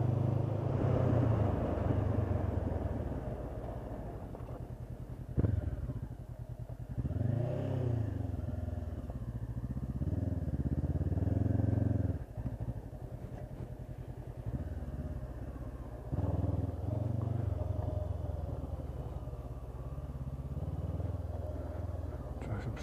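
A Honda CB500X adventure motorcycle ridden slowly off road, its engine droning and rumbling steadily with a few throttle changes and clatter, while voices talk over the riding.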